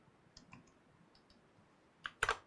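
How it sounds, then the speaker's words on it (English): A few faint computer keyboard key clicks early on, then a louder short burst of clacking keys near the end, in a quiet room during a mini PC livestream setup. "Got to hit the right keyboard."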